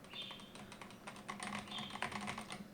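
Typing on a Razer V3 Pro TKL gaming keyboard with damping foam and fairly quiet switches, a quick run of soft, close key clicks in an uneven rhythm.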